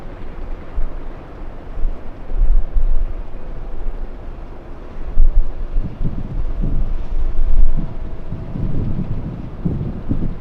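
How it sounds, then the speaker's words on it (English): Strong wind buffets an outdoor plane-spotting camera microphone at LAX airport, a loud, rumbling roar that surges in gusts, heaviest toward the end, with no voices. "I think the wind is just a little too much."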